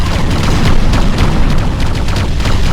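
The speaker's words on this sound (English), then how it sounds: "Enemy Hoverdyne destroyed." Explosion of an enemy Hoverdyne unit destroyed in the Ground Control real-time strategy game, a loud, sustained rumbling blast with crackling bursts layered through it, filling the whole moment with dense noise.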